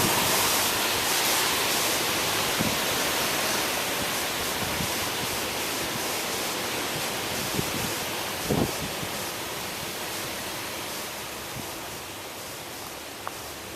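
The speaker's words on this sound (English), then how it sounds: "The winds are really picking up now." Strong Hurricane Sandy winds roaring across Lower Manhattan near the seawall, a dense, loud, continuous broadband rush with gusts and wind buffeting the microphone, no voices.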